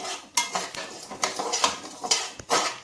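About 200 g of semolina dry-roasts over medium heat for upma while a metal spoon scrapes the pan in quick repeated strokes, several distinct scraping clatters in an uneven rhythm, close and unaccompanied by speech.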